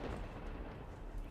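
Low, rolling thunder from a storm in the video game Risen 2 rumbles continuously, deep and muffled, with no clear individual crack and no talking over it.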